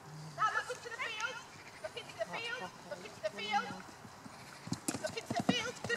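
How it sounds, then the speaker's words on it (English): A pony's hooves clop in a riding clinic as a rider works in the field, the footfalls running under frequent nearby talk from instructor and rider. "You're having to just wait for the horse's movement, aren't you?"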